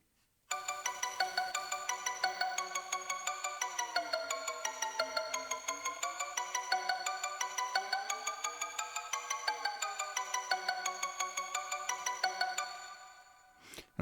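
Sustained synthetic tone processed by the Cryostasis freeze plugin's shift control, a dense buzzy chord whose pitch slowly bends down and up over several seconds with a fast rhythmic flutter, then fades out.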